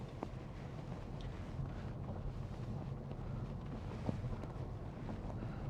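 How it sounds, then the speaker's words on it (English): Strong wind buffets the microphone outdoors in a continuous low, rumbling roar with faint gusty variations and no other clear sounds. "It's blowing an absolute hooligan."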